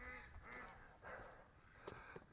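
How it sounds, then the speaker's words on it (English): Ducks quack and honk at a barn door while waiting to be fed, several overlapping calls, faint and somewhat distant, with no talk. "They're over at the barn quacking."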